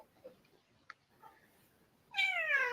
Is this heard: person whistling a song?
no